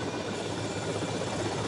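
Helicopter in GTA Vice City, a steady broadband rotor and engine drone that stays loud and close throughout with no pauses.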